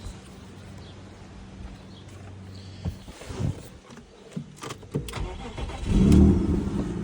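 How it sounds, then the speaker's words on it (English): A 1999 BMW 528it Touring with a manual transmission cranks in its engine bay. Brief clicks and clunks come first, then the engine catches and swells into a louder burst near the end, heard up close with no talk. "here's your engine bay, and then I'll turn it on"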